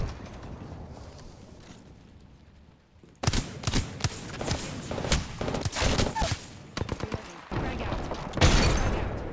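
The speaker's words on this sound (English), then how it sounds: "He's still shooting him through the wall, man." Bursts of rapid gunfire and heavy shots fill an Apex Legends match, starting after a quieter stretch and continuing in loud, dense volleys with impacts and clatter.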